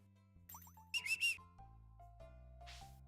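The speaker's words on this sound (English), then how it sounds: "I didn't want to whistle too loud." A person softly whistles a brief, trilling call for a dog while playing Stardew Valley, a faint burst set against quiet, sustained game tones.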